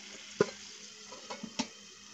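Potatoes frying in a pan with green chilies for a dried baim fish curry, stirred with a few distinct scraping clacks over a faint, steady sizzle, close by.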